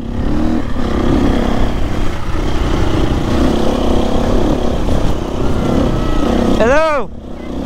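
A 2024 KTM two-stroke dirt bike engine drones loud and close at a steady pitch while riding, and a voice calls out briefly near the end.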